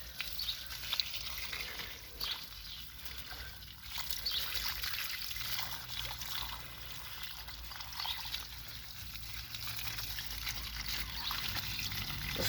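Water is poured steadily onto garden plants being fed naturally. A continuous close trickle and splash runs throughout with no pauses.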